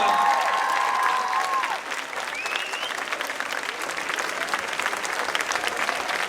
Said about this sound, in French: je veux tout le monde debout pour les applaudir très très fort